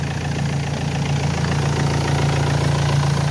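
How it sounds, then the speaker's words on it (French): A car engine runs at a steady idle during an alternator check, a loud, close, even rumble with a low hum and a fine rapid pulse that holds unchanged throughout. "là le moteur continue à tourner."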